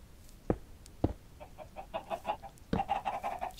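Minecraft chickens clucking close by, a few sharp isolated clucks followed by a quick run of rhythmic bawking notes, with no talk over them.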